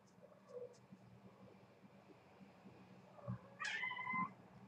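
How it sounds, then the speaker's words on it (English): A rambunctious pet cat meows loudly, one drawn-out, rising and falling cry near the end after softer faint chirps, close by in a quiet room. "I'm gonna go and snuggle my cat because I think that he's a little bit rambunctious and keeps, like, knocking things over and then meowing really loudly"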